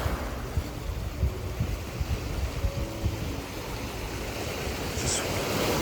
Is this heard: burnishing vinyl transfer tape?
no